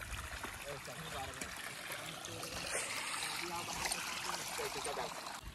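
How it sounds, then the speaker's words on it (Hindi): Water gushing steadily from an irrigation pump into a village farm field, a continuous broad rushing and trickling flow, fairly close, with occasional faint voices in the background. "अभी मशीन चालू हो गया है और अभी पानी पटाना भी शुरू कर दिया है सूरज और भैया।"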